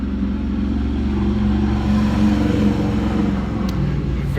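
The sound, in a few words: loud motorcycle passing by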